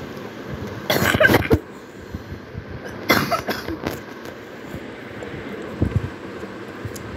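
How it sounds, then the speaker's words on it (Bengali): A person coughs in two short bursts, with a fainter cough near the end, close to the microphone over light background noise and no talking. "সরি, আমার একটু কাশি আসছিল"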